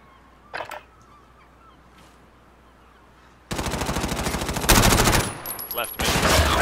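Video game gun firing in rapid automatic bursts, loud and close, starting after a quiet stretch with a few faint clicks and continuing in choppy sustained volleys.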